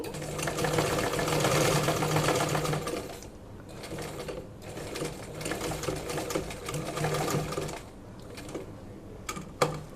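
Sewing machine stitching a half collar on fabric, rapid loud mechanical whirring in bursts with short pauses between runs, close up and without talk.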